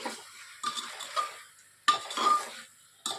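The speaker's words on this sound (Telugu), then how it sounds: "ఒక గుప్పెడు కొత్తిమీర కొద్దిగా పుదీనా వేసి బాగా కలుపుకోవాలి" A spoon scraping and clanking against a pot while coriander and mint are stirred into chicken haleem, several separate metallic strokes with quiet pauses between them.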